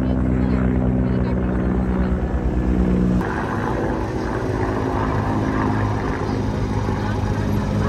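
Loud, continuous helicopter rotor drone overhead with a throbbing low rumble, with voices talking underneath, as the helicopter showers flowers over a Force Gurkha off-roading event.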